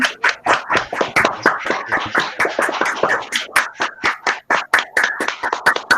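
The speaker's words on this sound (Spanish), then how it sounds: "Un aplauso también." A small group claps after a poetry reading, giving a brisk, irregular patter of nearby hand claps that lasts the whole stretch.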